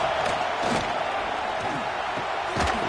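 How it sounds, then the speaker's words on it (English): Stadium crowd noise in College Football 26, a dense continuous roar of fans at a Penn State game with a commentator talking over it. "This crowd bringing the energy and noise early."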